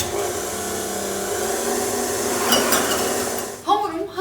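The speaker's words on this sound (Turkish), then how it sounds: "Sadece bütün malzeme karışana kadar çırpıyorum ve bırakıyorum." Muffin batter, buttery and thick after the dry ingredients go in, is whisked in a bowl with a continuous scraping swish and faint clinks, ending in a couple of louder knocks; a low hum runs underneath and nobody speaks.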